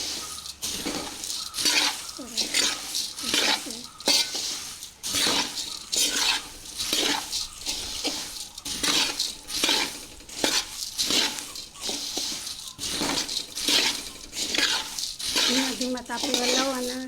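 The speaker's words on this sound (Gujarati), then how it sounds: "આ રીતે આપણે મમરા ઉમેરીશું" Puffed rice (mamra) stirred in a pan, with steady scraping, rustling clinks of a spoon against metal running throughout, close and continuous, along with a faint sizzle.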